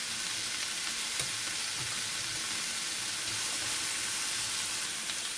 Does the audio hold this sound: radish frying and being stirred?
yes